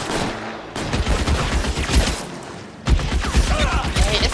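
Dense gunfire in the video game L.A. Noire, a rapid rattling fusillade that pauses briefly and then resumes, loud and close with game noise throughout.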